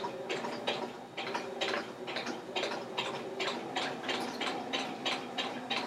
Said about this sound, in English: Take a few stitches, back stitch, and then I will keep going.